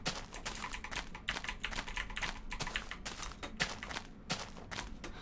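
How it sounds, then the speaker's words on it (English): A computer keyboard clatters with quick, irregular bursts of key presses during a Minecraft game, close and fairly quiet, with no talking. "Clickety clackety keyboard."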